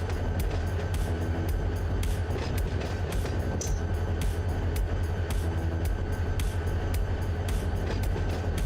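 A train in the Run 8 train simulator game rolls along at about 10 miles an hour. Its steady low engine rumble carries regular rhythmic clicks from the wheels over rail joints, and the sound continues without a break.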